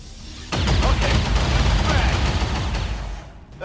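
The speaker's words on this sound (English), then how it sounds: "That is a magnificent shot." Gunfire in the turn-based tactics game XCOM 2: a sharp loud shot opens into a sustained, booming barrage of rapid fire that slowly tails off, with faint voices underneath.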